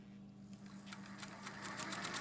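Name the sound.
Singer 201 sewing machine sewing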